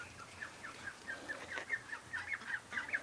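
A duck calls in a rapid series of faint, repeated nasal quacks over a low background hum, with no talking.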